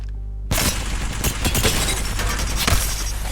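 Rapid L-Star energy gunfire in the video game Apex Legends bursts in suddenly, a loud sustained stream of shots with a few sharper cracks standing out.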